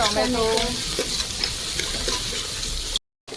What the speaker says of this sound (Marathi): कांदा चांगला परतून झालाय, आता त्याच्यात टोमॅटो टाकू आपण